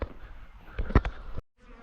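Angry bees buzz near a hive being boxed among bushes, a loud droning swell that peaks briefly before cutting to near silence, then resumes faintly.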